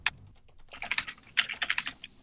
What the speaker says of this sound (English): And Ness is typing something. I'm typing my will.